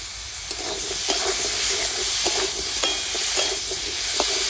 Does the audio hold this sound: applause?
no